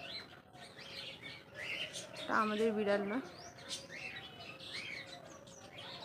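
A flock of jungle babblers calls in the open, with scattered chirps and harsh chattering at moderate distance and a louder, harmonic bird call in the middle, while a person speaks quietly over it.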